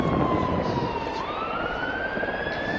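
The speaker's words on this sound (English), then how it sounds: "I would hear siren after siren" A wailing emergency siren sweeps steadily up and down, loud and continuous, with a second tone sliding upward over low road rumble.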